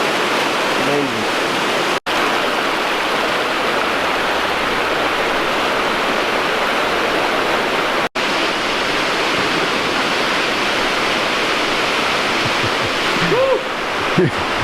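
A waterfall fed by snowmelt from mountain snowcaps roars loud and close in a steady, unbroken rush, with a brief faint voice near the end.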